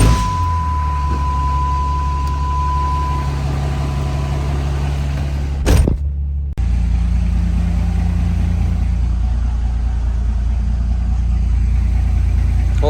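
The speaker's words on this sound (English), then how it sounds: "we're gonna drive the old 715 horsepower work truck home" A 715 horsepower work truck rolls along, its engine a steady low drone inside the cab, briefly interrupted by a short knock and a sudden dip before the hum resumes.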